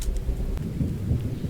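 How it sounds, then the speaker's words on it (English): Rain falls steadily in a survival video game while low thunder rumbles through, with a couple of sharp crackles near the start and a dense, continuous patter underneath, no speech. "This rain is also very, very nice."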